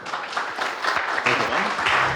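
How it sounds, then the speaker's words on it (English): A brief round of applause for a panel speaker at a tech conference fireside chat, scattered clapping from a modest audience under overlapping talk. "Round of applause."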